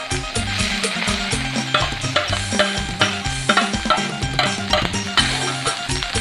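Rice is stir-fried in a pan with chili curry paste and mackerel, giving a continuous sizzle broken by rhythmic scraping strokes of the spatula, loud and close, with tonal sound running underneath.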